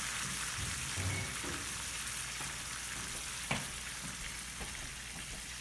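Lime cooking down in a pan with asparagus, mushroom and tomato in lemon butter sauce gives a steady, close sizzle and crackle, with a few sharper pops and scrapes along the way.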